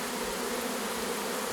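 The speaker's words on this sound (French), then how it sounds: "on voit bien les abeilles depuis là-bas là, qui font le chemin, qui suivent les abeilles qui battent le rappel" A honeybee swarm buzzes while streaming into a hive, making a dense, steady, close drone with no pauses.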